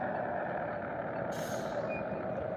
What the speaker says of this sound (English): Uh-oh, here's a bus.